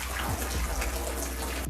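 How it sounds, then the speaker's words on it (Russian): Water runs steadily into an outdoor wooden hot tub as it is filled, a continuous close splashing and trickling with no talk. "Теперь настало время проверить герметичность купели и наполнить ее водой."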